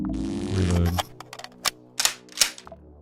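Shotgun reloading in the sci-fi game Quasimorph: a few crisp mechanical clicks and clacks of shells and action, close and sharp, following a short low rumble at the start.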